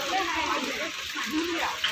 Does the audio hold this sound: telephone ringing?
no